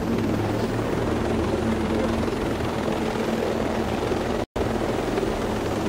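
A helicopter in the video game Ghost Recon Breakpoint drones with a steady, loud rotor roar and a low engine hum that fills the whole stretch, broken by one very brief dropout near the end.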